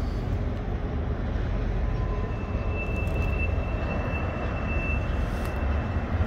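A westbound CN freight train rolls through the Pointe-Saint-Charles railyard in Montreal, a steady broad rumble of wheels and cars that holds loud and unbroken throughout, with a thin high wheel squeal drawn out faintly in the middle.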